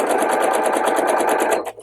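A sewing machine stitches a seam on a tailored shirt, running in a fast, even rhythm up close and then stopping abruptly near the end.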